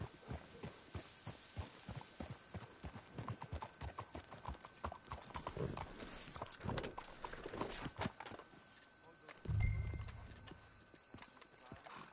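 Horses' hooves clip-clop at a steady walking rhythm in the Saint Denis area of the video game Red Dead Redemption 2, with a brief louder snort or whinny near the end and faint voices at times.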